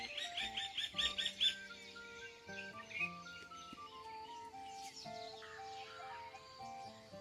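A red-wattled lapwing calls repeatedly with sharp, loud cries at the start, then quieter calls continue among layered background tones.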